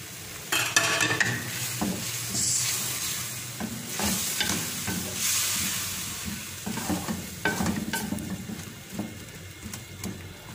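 Spices going into a frying pan for village-style black daal, with a constant sizzle of hot oil and repeated spoon stirs and scrapes against the pan, close up and fairly loud.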